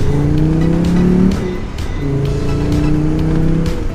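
A five-cylinder engine swapped into a VW Golf GTI Mk2 revs loudly and roughly, climbing in pitch, dipping, then rising again, close by with a throaty, warbling tone.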